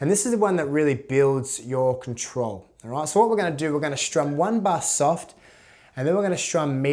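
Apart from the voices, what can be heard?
No everyday noises stand out.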